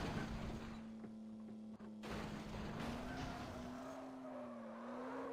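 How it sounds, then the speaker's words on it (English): Cars drifting and racing in the video game Academy of Drift, a steady droning engine tone with rising and falling pitch under continuous tyre and road noise, no talking. "Play drifting and racing with Academy of Drift."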